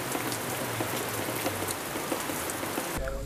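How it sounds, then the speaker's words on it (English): Heavy rain pours steadily onto a thatch roof over a classroom, a dense continuous hiss of drops that cuts off abruptly near the end. "the thatch roof only strains the heavy downpour"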